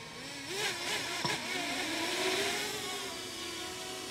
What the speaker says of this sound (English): Three blade propellers, let's give it a try.